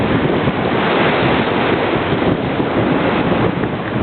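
Ocean waves rush continuously around a small sailboat on the Pacific while it makes about 6.5 to 7 knots, a steady loud wash of water mixed with wind buffeting the microphone.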